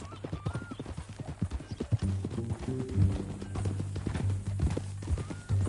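Horse hooves clip-clop in a PS4 game, a steady run of close hoofbeats with a brief whinny, mixed with music and some talk.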